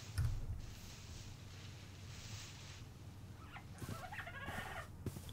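A bird in the Minecraft video game gives a few short, clucking, fowl-like calls, one burst near the start and more near the end, over quiet game ambience.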